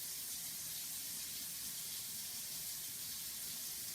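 Steady running water pours continuously into a mixing bowl, a smooth hiss with no voices, fairly quiet and even throughout.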